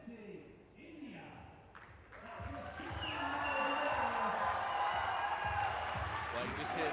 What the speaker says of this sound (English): Well, you just hear the reaction of the crowd.